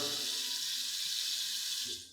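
Water pours steadily into a pan of water meant for an oven while baking bread, a continuous hissing splash that runs about two seconds and tapers off at the end, with no talking.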